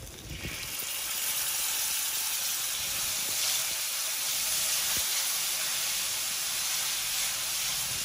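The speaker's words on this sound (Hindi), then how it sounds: "2 मिनट हो गया नाज़रीन हमारा मसाला पकते हुए" Masala with curry leaves, salt, turmeric and tamarind pulp cooks in a pan for baingan bhurta, giving a steady, fairly loud hiss and sizzle with no talk.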